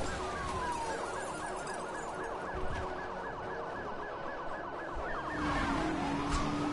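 Rapidly wailing electronic police sirens in Need For Speed Hot Pursuit cycling up and down, fairly loud and steady, with a higher whine sweeping in near the end.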